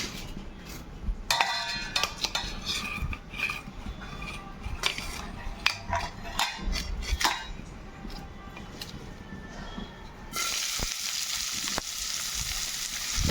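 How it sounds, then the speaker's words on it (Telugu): Onion pieces hit a little oil in a pot and fry with a steady sizzle. Sharp metal clinks and scrapes of a spoon stirring against the vessel come through in bursts, and the frying swells louder near the end. "అదే గిన్నెలో కొద్దిగా ఆయిల్ వేసుకొని ఇప్పుడు ఉల్లిపాయ ముక్కలు వేసుకుందామండి."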